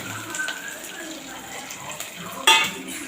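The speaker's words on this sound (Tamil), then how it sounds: "வெங்காயம் பூண்டும் நல்லா வதங்கிருக்கு." Chopped shallots and garlic with cumin, urad dal and curry leaves sauté in a pan for Andhra gongura pachadi, giving a faint sizzle under stirring scrapes, with a sharp clink of a utensil near the end.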